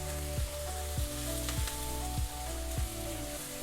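Garlic cloves and chopped ginger sizzle steadily in hot fat in a pan while making butter chicken gravy, a constant close crackle with occasional sharper pops and no voices.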